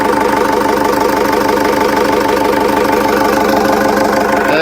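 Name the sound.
new engine of a 4x4 Sprinter van idling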